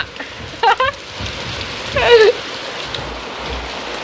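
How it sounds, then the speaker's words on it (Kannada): Steady rain patters across the whole stretch, with a couple of brief chirpy calls rising above the wash partway through. "ಮಳೆ ಫ್ರೆಂಡ್ಸ್ ಮಳೆ ಫುಲ್ಲು"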